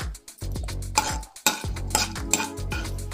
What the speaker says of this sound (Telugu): స్పూన్తో అయితే ఇలా కలుపుకోవాలి కొద్దిగా బ్రౌన్ కలర్ వచ్చే వరకు ఇలా వేయించుకోవాలి